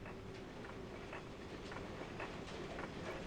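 Train car rolling on rails in RHEM 2, a quiet, steady rumble with faint, regularly spaced clicks from the track.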